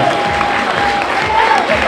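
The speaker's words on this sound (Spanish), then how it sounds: "Venga, un aplauso muy fuerte para ellos." A crowd at a Carnival (Entroido) parade applauds for costumed participants, loud and continuous clapping mixed with cheering and a whistle-like tone riding over it.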